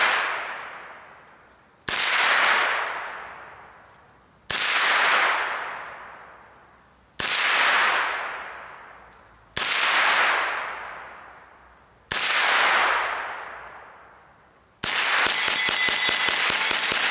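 Six evenly spaced, loud shots from a Smith & Wesson Response 9mm carbine at an outdoor range, each a sharp crack with a long decaying tail, followed by a steady rattling noise.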